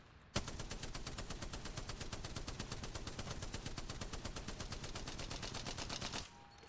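A weapon in Apex Legends fires a steady, evenly spaced stream of rapid shots for about six seconds, loud and alone, then stops abruptly.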